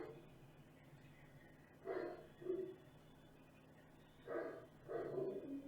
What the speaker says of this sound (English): you can hear there's like a dog barking